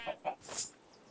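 Chickens in the Minecraft video game give a few short, bright clucks spaced quickly one after another, with a higher squawk near the middle, fairly close and clear.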